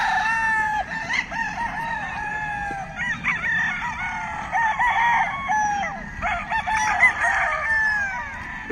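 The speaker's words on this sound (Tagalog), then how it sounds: "Kahit saan ka magpunta, maraming manok." Chickens cluck and roosters crow repeatedly around a rural yard in the Philippines, overlapping calls rising and falling at close to middle distance, with no talk over them.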